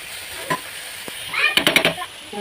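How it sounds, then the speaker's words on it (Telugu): Beetroot curry frying in a kadai while being stirred, a soft sizzle underneath a few scraping strokes and clinks of the spoon against the pan, close and fairly quiet. "కడాయి పెట్టుకొని మధ్య కలుపుకుంటున్నాను."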